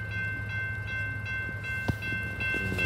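A BNSF SD70ACe diesel locomotive leads a loaded coal train at a grade crossing, its deep steady engine rumble and a sustained tonal hum filling the scene, with a brief clank partway through and rising noise near the end.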